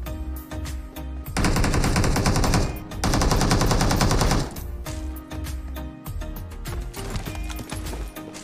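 Gunfire from PUBG Mobile: scattered single shots, then two dense bursts of rapid automatic fire lasting a second or two each, followed by sporadic shots and clattering game sounds, with no talking.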